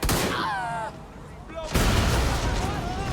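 Gunfire in Watch Dogs Legion crackles under voiced game dialogue, with a denser burst of shots in the second half after a short lull.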